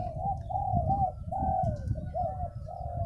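A spotted dove coos close by in a repeated rhythmic series of soft rolling notes over a low rumbling background.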